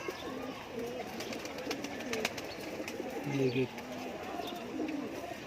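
Pahalvan breed pigeons coo softly in low repeated phrases near the listener, mixed with faint bird chirps and someone talking over them.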